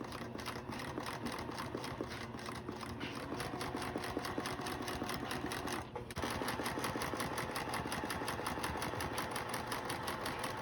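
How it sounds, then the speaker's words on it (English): A sewing machine runs continuously, stitching quilt blocks together with a fast, even mechanical rhythm and a brief pause partway through, close and steady. "Okay, I have them all sewn now, and now I'm ready to sew them together."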